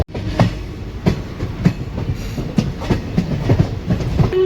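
Passenger train running across a bridge over the Hooghly (Ganga) river between Kolkata and Mayapur, with a steady rumble and regular clickety-clack wheel beats repeating about every half second, heard alone with no talk.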